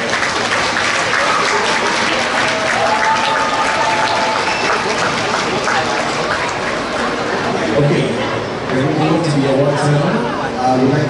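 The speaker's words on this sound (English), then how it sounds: "Please give yourselves a huge round of applause." Young skaters and spectators applaud at a figure ice skating award ceremony, with loud, continuous clapping in a big arena blended with crowd noise and some talking, building near the end.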